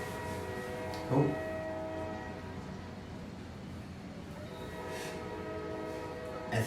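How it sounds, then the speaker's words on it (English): Steady low rumble of a train with a sustained horn-like tone, faint and at a distance, plus brief bumps. "I think that's my train."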